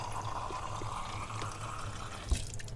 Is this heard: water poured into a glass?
yes